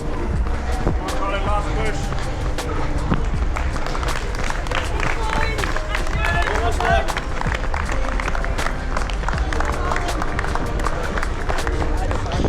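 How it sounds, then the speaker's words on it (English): Spectators at a half marathon clap and shout continuously, a dense spread of applause and scattered cheers close by, with babble and voices mixed throughout. "we're getting some applause and some shouts from people"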